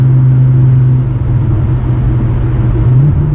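Loud, close exhaust of a 925 BHP Nissan GT-R with big hybrid turbos drones with a deep steady rumble, rising slightly in pitch near the end as it revs.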